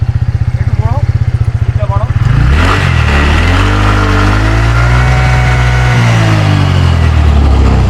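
A 2023 scooter's engine is started with a few rapid sputtering pulses, then catches and revs up and down loudly close by.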